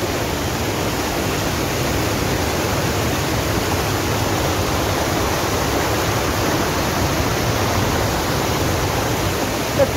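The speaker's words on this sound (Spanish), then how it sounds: "La cascada, cascada la escondida." The Escondida waterfall in Cochamó pours as a steady, loud, broadband rush of falling water, close and unbroken throughout with no voices.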